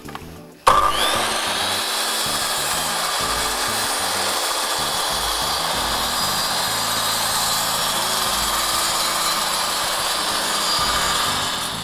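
A mitre saw makes a parallel bevel cut in a wooden board at 45 degrees, starting abruptly and then holding a loud, continuous high whine with the blade working through the wood for the whole stretch, with no talk over it.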